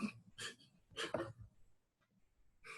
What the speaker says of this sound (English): Like I was saying, the dog in the back.